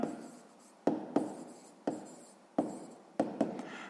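Pen or pencil writing by hand on paper while working through a sixth-grade math exercise, a series of quiet scratchy strokes with sharp taps at each new stroke, close and soft, with no talking.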